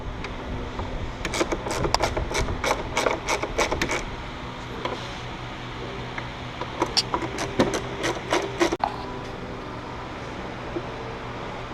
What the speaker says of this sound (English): to remove this, you use a T20 Torx bit